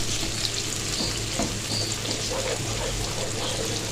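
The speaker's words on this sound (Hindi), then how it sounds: "1 से 2 मिनट इसको फ्राई करेंगे।" Green chillies and garlic frying in a pan for restaurant-style Chinese fried rice, a steady close sizzle with crackling and faint stirring throughout, no talking.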